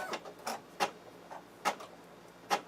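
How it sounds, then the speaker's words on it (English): A Brother PE800 embroidery machine starts stitching, giving quiet, close, evenly spaced mechanical ticks and thumps in a regular rhythm, with no talk. "now I'm just going to push the button and we're going to watch it start embroidering"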